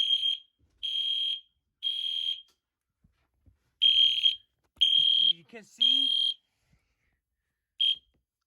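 A loud, shrill EST Edwards Genesis fire alarm horn strobe blares in regular on-off bursts, with a brief voice speaking between blasts.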